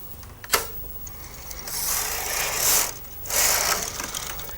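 The carriage of a Brother KH950i knitting machine slides across a row, making a mechanical rasping, clattering sweep that swells and fades twice after a sharp click, close by with no voices.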